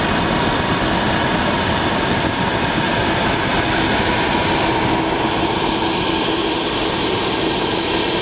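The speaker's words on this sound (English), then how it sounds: "You see the fan spinning inside there" A fan spinning inside a metal pipe with a flame burning during a test, producing a loud, steady, broadband roaring whoosh from close by, with no talking.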